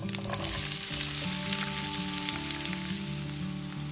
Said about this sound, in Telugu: దీనిలో ఇప్పుడు ఉల్లిపాయ ముక్కలు వేసి వేయించుకోవాలి